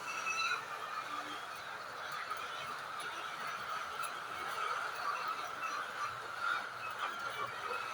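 A large flock of chickens in a poultry house makes a dense, continuous chorus of clucks and squawks, faint and distant, blending into a steady hubbub.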